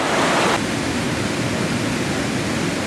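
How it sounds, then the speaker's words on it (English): A waterfall roars steadily from close by on a hike, a dense, loud, unbroken rush of falling water with no voices. "So we just get down to the bottom of the waterfall."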